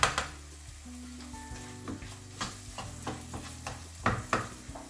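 Sausage mince sizzles in a frying pan for a shakshuka breakfast while a utensil repeatedly scrapes and stirs through it. The stirring adds short knocks over a continuous crackle, with no voices.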